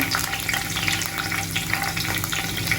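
Curry leaves and green chillies hit hot oil in a pan, giving a continuous loud sizzle and crackle with faint stirring, close by and without speech.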